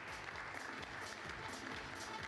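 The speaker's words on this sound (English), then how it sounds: "can we have a huge round of applause and welcome him on the stage" Audience applause at a food industry summit as a panelist walks on stage, a steady wash of clapping from a crowd, distant and fairly faint, with no talk.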